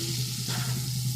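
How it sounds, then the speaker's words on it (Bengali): Potatoes fry in a pan for niramish alur dom, a soft continuous sizzle with a low steady hum underneath, close and fairly quiet, no voices. "এটা আমার আলুটা প্রায় ভাজা হয়ে গেছে একদম"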